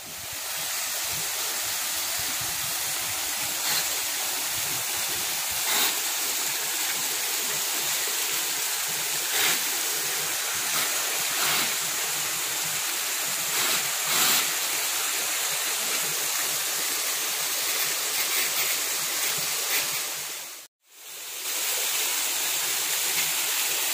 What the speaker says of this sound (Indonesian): Nakamura waterfall. The best.